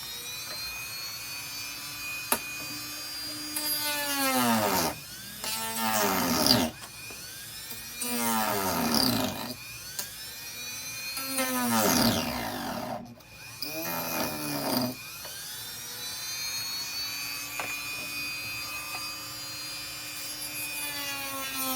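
A handheld rotary tool grinds and slices through the teeth of a plastic skeleton jaw, its high whine rising and dropping in repeated bursts as the bit bites in and eases off, close and loud throughout.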